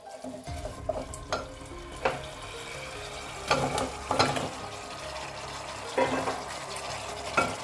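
Mutton pieces frying in a hot masala, stirred with repeated scraping strokes and a steady sizzle throughout, close by and moderately loud, with no talking.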